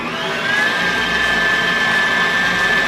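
An electric mixer whipping vegan meringue with vanilla, a loud continuous motor whine with a steady high pitch, running without break and no talking over it.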